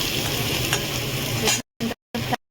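Garlic, onion, green chilli and tomato sizzle loudly in a frying pan, a dense continuous crackle with stirring, then cut into two short choppy bursts of sizzling separated by silence.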